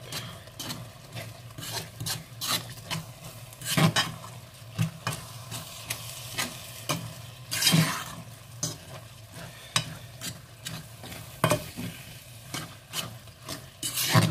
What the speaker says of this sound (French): je prends une fourchette pour pouvoir bien séparer les grains de riz